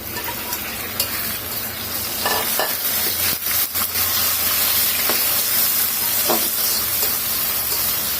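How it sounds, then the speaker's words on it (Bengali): Loitta dried fish frying with lightly browned onions in a pan: a loud continuous sizzle and hiss, broken by scraping stirs and clinks of the spatula, close up with no talk. "পেঁয়াজের সাথে লইট্টা শুটকিটাকে ভেজে ফেলবো"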